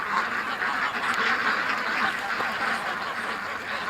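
A flock of ducks quacking steadily and close by, the calls overlapping in a busy, continuous chatter.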